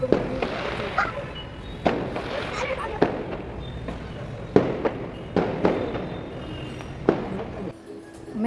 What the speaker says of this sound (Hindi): यहाँ पर इस तरीके से पटाखे जल रहे थे